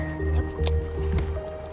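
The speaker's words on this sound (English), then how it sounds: "And there's some water." Water splashing in the survival video game Raft, heard as soft squishy drips and splashes repeating in short bursts over a steady tonal game background hum.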